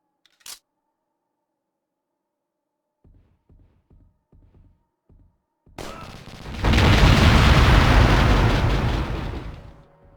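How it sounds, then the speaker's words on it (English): Barrels blowing up in a stealth video game: a sharp click, then a string of soft thuds, followed by a loud, roaring blast that swells and rumbles for several seconds before fading out. "I don't remember the barrels having to blow up before."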